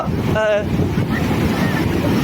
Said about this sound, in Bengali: বড় ঢেউর মধ্যে